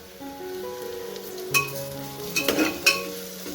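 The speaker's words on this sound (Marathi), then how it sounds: "त्यानंतर आपल्याला मिरची टाकायची आहे." Green chilies for a rajma curry are dropped into a hot pan and fry with a soft, steady sizzle. A few louder clinks and stirring scrapes come near the end, and no one speaks.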